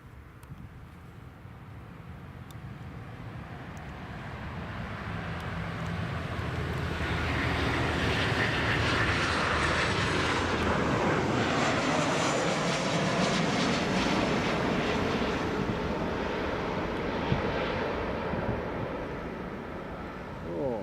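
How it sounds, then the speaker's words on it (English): A Jet2 airliner arriving from Mallorca swells from a distant rumble to a broad, loud jet roar as it descends to land at Leeds Bradford Airport, then slowly fades. "Jet2 from Mallorca is just about to land"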